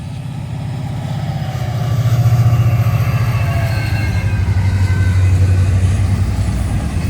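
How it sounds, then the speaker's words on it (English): A Florida East Coast Railway intermodal freight train, the local run from the Port of Palm Beach north to Fort Pierce, rumbles past close by with a steady, loud low drone of engine and rolling wagons that swells and holds. "Here is Florida East Coast Railway Local Train 903, carrying intermodal from the Port of Palm Beach north to Fort Pierce"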